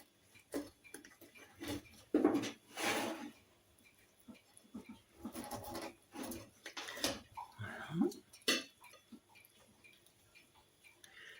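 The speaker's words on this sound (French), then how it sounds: "Je vais en couper un bout." A knife cuts through a cold quiche lorraine in a series of short, close ticking and scraping taps against a plate or board, uneven in rhythm, with a few louder knocks.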